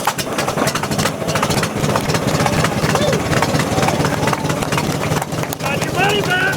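An antique truck engine turns over and runs at a rough idle at an outdoor truck show in Plymouth, California, a steady loud chugging under continuous nearby crowd talk.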